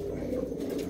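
A fancy hen pigeon with pale yellow eyes gives a brief, low, continuous coo close up, with no talk.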